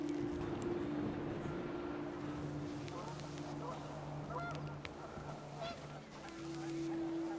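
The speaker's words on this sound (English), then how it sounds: "The wind picked up and panicked geese appeared and quickly went." Geese honk in the video game What Remains of Edith Finch, several faint calls scattered over a steady, windy outdoor ambience.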